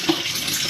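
Water runs from a sink faucet left on during washing, giving a brief steady hiss and splash with no voices.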